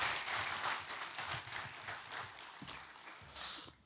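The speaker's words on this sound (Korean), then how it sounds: "나오실 때 큰 박수로 맞아주시기 바랍니다." Church congregation clapping to welcome a pastor to the front during a Sunday service, a dense, steady wash of applause that holds for a few seconds and swells briefly near the end.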